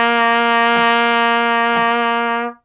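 A trumpet holds a single low C, steady and loud for about two and a half seconds before cutting off cleanly, close and alone.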